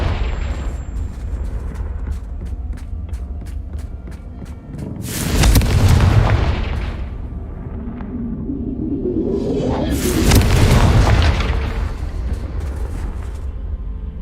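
Two heavy Confringo spell blasts from Hogwarts Legacy, each preceded by a rushing whoosh and bursting into a deep, loud boom, about five seconds apart over steady game background noise.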